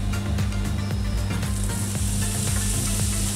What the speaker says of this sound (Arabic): غادي ندير هنايا شويه ديال زيت الزيتون، المقله عندي ديجا سخونه